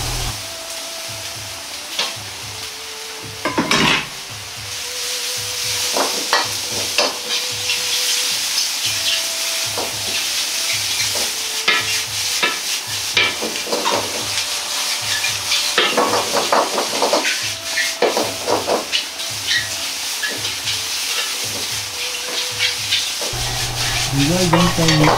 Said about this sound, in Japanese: これも入れて炒めます。